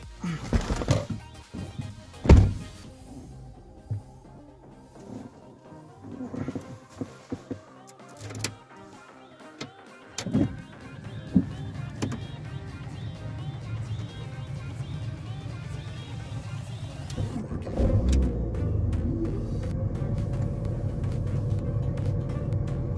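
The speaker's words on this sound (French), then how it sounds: "Voilà, une petite Mini Cooper, petite voiture anglaise, bon, ça roule" A small English Mini Cooper idles and runs, its low engine rumble starting quietly and growing steadier and louder after a series of clicks and thumps, like a door and controls being worked.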